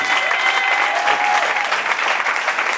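A church congregation claps steadily, with dense continuous applause holding at an even loudness throughout the short stretch.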